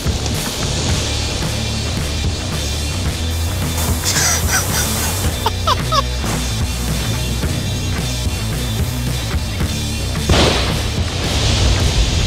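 A firework-style explosion set off outdoors, heard as a loud burst partway through a constantly noisy, dense background with crackling bursts, then a final bang near the end.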